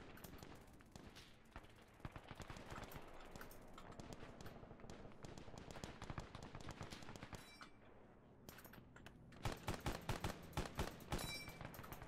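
Video game gunfire at an Arma 3 shooting range, a dense run of sharp rifle shots in irregular bursts, some rapid and clustered, with a short lull before another quick volley, fairly quiet overall.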